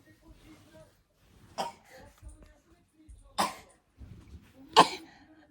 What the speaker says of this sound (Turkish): Bak yine öksürmeye başladı.